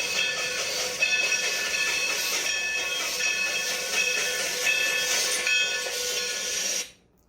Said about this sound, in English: It's a locomotive, a train. That's the sound that it makes as it's going on the tracks.